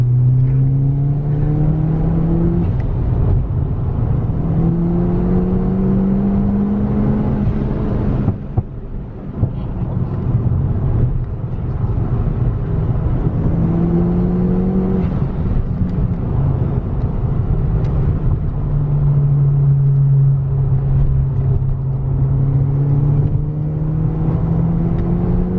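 A McLaren GT engine revs repeatedly with rising and falling pitch sweeps, a loud deep drone that pauses briefly midway before building again, with no talk over it.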